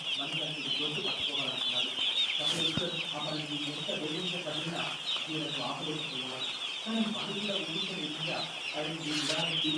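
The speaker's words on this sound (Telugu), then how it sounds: "చూడండి మాకు ఈరోజు రాత్రి కోడి పిల్లలు వచ్చినాయి." Dense, continuous high-pitched peeping of many newly hatched chicks in a brooder kept at 40 degrees, with soft clucking underneath and a faint voice now and then.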